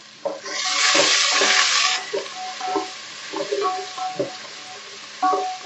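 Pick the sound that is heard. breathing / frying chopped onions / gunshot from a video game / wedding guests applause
frying chopped onions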